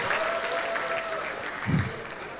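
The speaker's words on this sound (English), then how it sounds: "clap for Blood Sisters, clap, clap" An audience at a lively Nigerian comedy show claps for Blood Sisters, a Nigerian movie: a continuous patter of applause fills the room, with a comedian's voice briefly over it.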